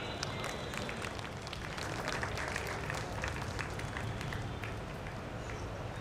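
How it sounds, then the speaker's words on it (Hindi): A large crowd at a Dahi Handi festival for Krishna on Miller Ground in Patna claps loudly, a dense, sustained wash of applause that holds steady throughout. "हेलो, जोरदार ताली।"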